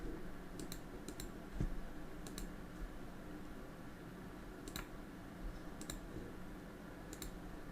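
Sparse mouse clicks during a Windows 11 install in VirtualBox, several sharp, close ticks in small pairs spread over quiet room hiss, with no speech.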